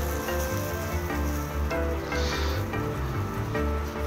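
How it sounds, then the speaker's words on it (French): Butter fat dripping onto glowing embers under mushrooms on a grill, giving a steady close crackling sizzle with a low rumbling bed beneath, no voices. "Si je mets autant de beurre, c'est pour vraiment avoir cette action de gras qui va tomber sur la braise"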